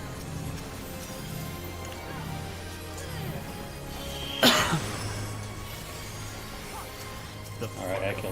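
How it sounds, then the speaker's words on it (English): A single sharp cough from a player during a competitive online shooter match, sudden and close, standing out against quiet talk and low game sounds. "Can you not cough, dude?"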